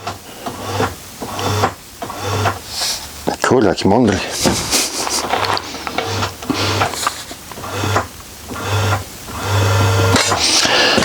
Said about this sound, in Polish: jeżeli myślisz, że to jest maszyna do szycia, na maszynie do szycia takiego czegoś nie można zrobić